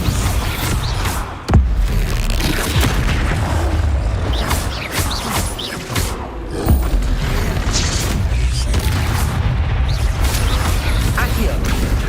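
The Bombarda blasting spell goes off in Hogwarts Legacy, with booming impacts and mechanical rumbles among other spell effects in a dense, loud game soundscape.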